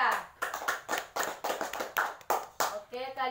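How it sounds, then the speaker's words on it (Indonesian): A small classroom group claps rhythmically for a student in a series of short bursts, with a voice speaking briefly in between. "Oke, tepuk tangan Ika"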